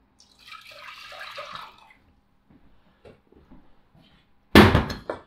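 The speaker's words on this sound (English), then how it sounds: "And now I'm going to add in all that vanilla milk." Vanilla milk poured into a pan, a soft liquid rush lasting about a second and a half, followed by faint clinks and a sharp, louder clatter near the end.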